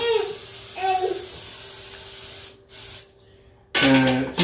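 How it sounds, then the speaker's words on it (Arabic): A steady hissing burst of cooking oil spray lasts a couple of seconds, close and fairly loud, followed by a brief pause and then a voice speaking. "طبعا بنستخدم الزيت الاسبري"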